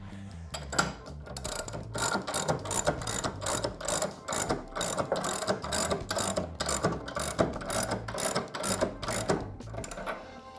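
A Drag Specialties scissor jack cranks up to lift the rear wheel of a KTM 790/890 or Husqvarna Norden 901 motorcycle, making rapid, steady ratcheting clicks, loud and close, with no talking.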